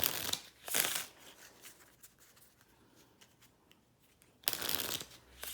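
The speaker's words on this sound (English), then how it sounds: "I'll give them a shuffle." Cards are shuffled in two quick riffling bursts, one at the start and one at the end, with a quiet pause of faint handling between.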